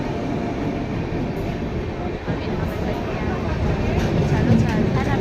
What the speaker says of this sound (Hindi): फाइनली हमार ट्रेन आ चुके हवे